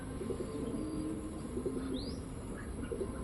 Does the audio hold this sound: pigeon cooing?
yes